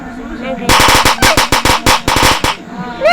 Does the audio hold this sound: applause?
no